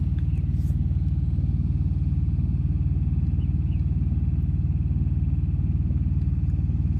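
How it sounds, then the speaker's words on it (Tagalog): Steady, loud rumble of a 4DR5 diesel engine idling aboard an old lifeboat, an even low throb with a regular pulsing beat that holds constant throughout, close to the listener, with faint clatter on top. "4DR5 pala makina."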